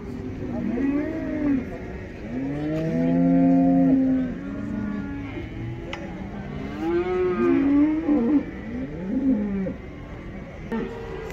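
Several cattle at a livestock market in Taraz moo in long, drawn-out calls that overlap and rise and fall, some close and some farther off, over a busy background murmur.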